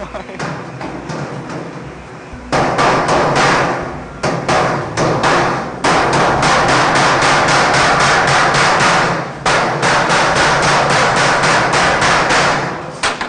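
A tinsmith beats sheet metal with an ordinary hand hammer in a sheet-metal workshop, a dense run of loud, rapid ringing blows that continue almost without pause, the first seconds lighter before heavier strikes take over.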